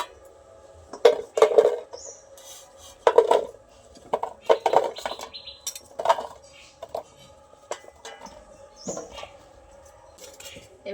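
Chopped raw mango for a sour-spicy pickle is tipped and scraped from a small pot into a larger one, giving several clattering knocks and scrapes in bursts, close and fairly clear.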